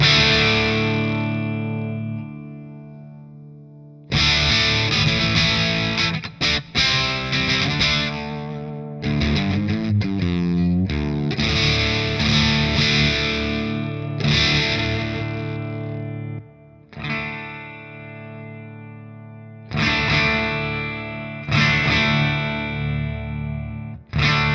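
Electric guitar played through an analog amp-in-a-pedal on a cranked clean channel, loud and slightly distorted with chorus-like shimmer; sustained chords and short riffs ring out in bursts with brief pauses between, no voices.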